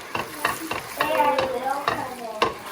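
Spices stirred through browned butter in a pan for saag feta, the spoon scraping in repeated strokes over a steady, close sizzle, with no talking.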